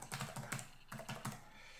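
Fingers type a password on a computer keyboard in two quick clusters of close, crisp key clicks, quiet and without talk.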